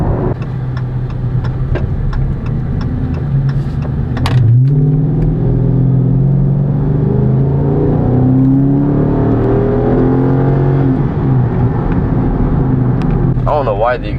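A Dodge Charger R/T accelerates hard, its engine note climbing steadily through a long pull and shifting gears, loud and close from inside the car, with a brief clatter at the start and end.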